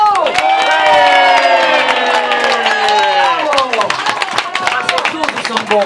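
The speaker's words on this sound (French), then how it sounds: "je demande d'applaudir très très fort" An audience claps and cheers loudly after a performance, sharp claps and whoops layered over a sustained crowd roar, while a voice speaks over it and the clapping thins toward the end.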